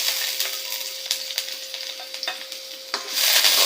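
Garlic sauteing in cooking oil for pork monggo, a close, bright sizzle with clicks and scrapes of stirring that swells louder toward the end.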